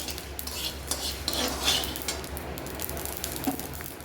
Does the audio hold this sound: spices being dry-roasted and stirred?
yes